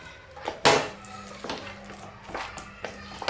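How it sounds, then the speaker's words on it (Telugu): Stirring a sugar syrup mixture with peanuts in a pan while making peanut chikki, with a few scraping and clinking hits of a utensil against the pan, one louder knock near the start, close and fairly quiet. "ఇలా మొత్తం పాకం మిక్స్ అయ్యేలాగా కలుపుకోవాలి."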